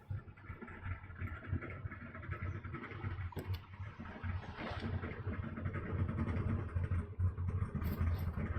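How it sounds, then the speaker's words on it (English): Car engine in the video game DayZ, a steady low droning rumble running throughout, rising slightly louder toward the end with faint background game noise. "Can you hear the car louder now?"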